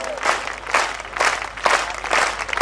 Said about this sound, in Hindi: अपने लिए बजा दो तालियों